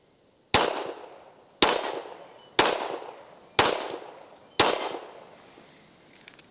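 Five loud, sharp shots from a Springfield Armory Ronin 4.25-inch pistol loaded with a Chip McCormick Shooting Star magazine ring out at an outdoor range. They come at an even pace about a second apart, each with a long decaying echo.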